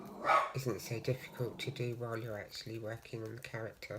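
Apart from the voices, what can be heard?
dogs barking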